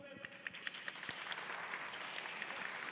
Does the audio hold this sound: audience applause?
yes